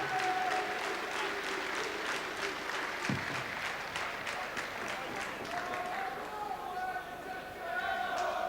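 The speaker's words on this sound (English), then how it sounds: "please show our appreciation for our visitor all the way from Belarus, vadzim astapuk" Boxing crowd applauding in an arena after a fight between a Scottish boxer and a visitor from Belarus, sustained clapping and cheering under an announcer's amplified voice, with a dull thump partway through.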